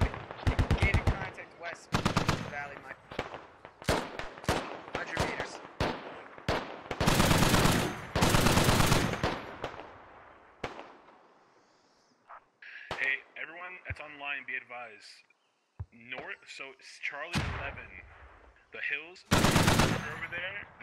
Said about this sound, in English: And HMG now opening up on infantry.